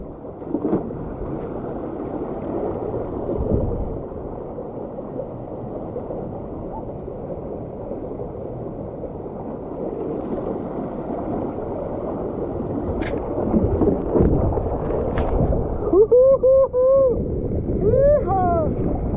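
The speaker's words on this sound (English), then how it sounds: "we're going down the slide" A rider slides down a resort pool waterslide, giving a continuous rushing, splashing wash of water and air noise up close that swells toward the end, where a few short vocal cries break through.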